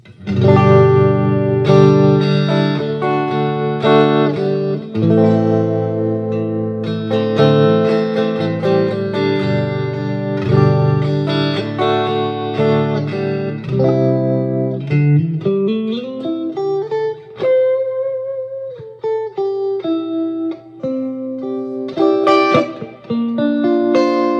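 Electric guitar through a Fender '68 Custom Vibro Champ Reverb small tube amp, pickup in neck-middle position, with a warm, slightly overdriven tone, playing sustained chords and melodic runs with reverb trailing behind the notes.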